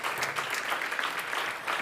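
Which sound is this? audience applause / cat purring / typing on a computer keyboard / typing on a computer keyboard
audience applause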